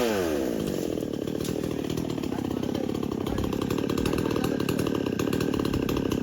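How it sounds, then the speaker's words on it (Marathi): A chainsaw cuts through a tree felled by a storm, its engine roaring loud and close in an unbroken, steady drone for the whole stretch. "आता आपण हे झाड तोडायला सुरुवात केली आहे"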